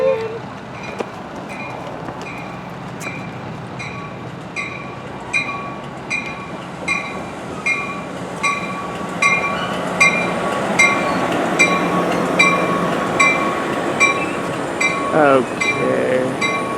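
Amtrak passenger train 774 passes through a station, a steady rolling rumble with a regular clickety-clack of wheels over rail joints, close by and building toward the end, with people talking faintly nearby.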